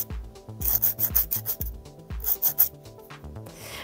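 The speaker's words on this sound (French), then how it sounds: "on vient toujours rectifier à la lime" A nail file rasps across a fingernail during a gemstone-style nail art session, in quick back-and-forth strokes of about eight rhythmic scrapes, close and clear with no talk.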